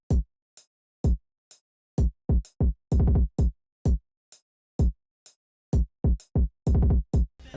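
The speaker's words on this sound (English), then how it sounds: "Then we move over to the kick, which you hear in the intro" Punchy electronic kick drum from a remake of Trippie Redd's BIG 14, a series of sharp, booming hits in a stuttering trap rhythm with a few longer sustained thumps, played alone and close.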